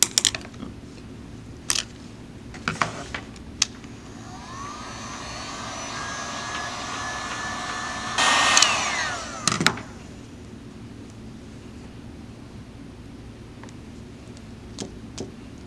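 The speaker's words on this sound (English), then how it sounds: "then I'm gonna take my heat gun" A heat gun blows in a steady whooshing roar for about six seconds while drying paint on a cactus pot, with scattered clicks and taps before and after.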